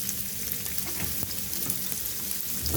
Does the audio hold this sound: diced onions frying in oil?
yes